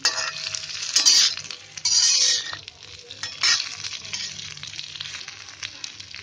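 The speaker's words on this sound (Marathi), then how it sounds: "गॅस फास्ट करून आपण हे ब्राऊन होईपर्यंत मी आता भाजून घेते" Whole okra pan-roasting over a high gas flame, a close crackling sizzle broken by bursts of stirring and clinks of a spoon against the pan, with no talking.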